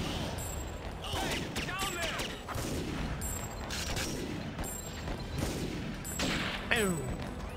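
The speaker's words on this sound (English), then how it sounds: "This is a Gatling gun?" A Gatling gun in the video game TimeSplitters fires sustained rattling bursts, loud and dense, with brief pauses between volleys and a ringing whine over the shots.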